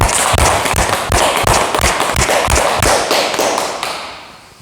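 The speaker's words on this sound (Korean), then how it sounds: "귀한 질문해 주신 우리 대민께 박수 부탁드립니다" A Korean Buddhist morning dharma talk audience gives loud, sharp, rhythmic applause with distinct claps, fading out toward the end.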